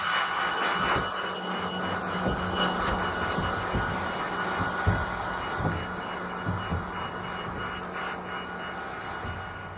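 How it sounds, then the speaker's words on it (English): A leaf blower roars steadily, blowing rust remover off a ridged metal roof during a rusty roof repair, a loud continuous rush lasting the whole stretch with no talk. "I'm gonna grab the blower and see how easy this stuff is gonna blow off"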